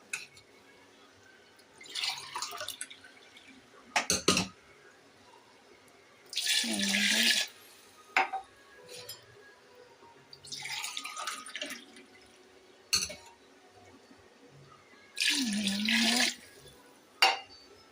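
Water is poured into soaked rice for chicken biryani in a home kitchen, arriving in several separate splashing pours with drips and quiet gaps between them.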